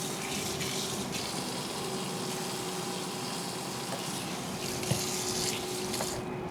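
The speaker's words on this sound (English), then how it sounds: "I'm going to wash my hands real quick" Tap water runs steadily into a kitchen sink as hands are washed, a continuous close splashing rush with small clinks near the end.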